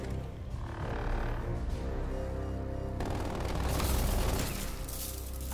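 Automated sentry turret firing in the Onslaught raid of a video game, a continuous loud burst of rapid gunfire that intensifies midway, dense and sustained throughout.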